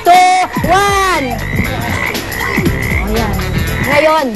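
Frogs croak loudly and repeatedly up close, their calls overlapping in rapid, rising bursts that fill the whole stretch.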